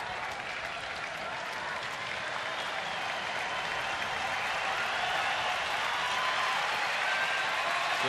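A sellout crowd of over 41,000 at a Detroit Tigers baseball game against Milwaukee cheers and applauds on a full count, a steady loud roar of clapping and voices lasting throughout.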